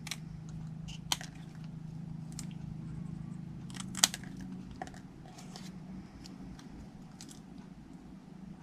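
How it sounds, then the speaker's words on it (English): Scissors cut paper closely around stamped words, giving faint crisp snips and a couple of sharper clicks over a low steady background hum, near and quiet. "I'm going to cut it pretty much as close as I can to the words"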